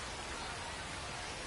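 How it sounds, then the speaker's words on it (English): Steady rain pours over a baseball field in MLB The Show 25, a dense, even hiss that fills the whole moment with no talk over it. "the field's not going to be able to hold up if the rain gets any worse than this"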